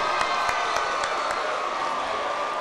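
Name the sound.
high school audience applause and cheering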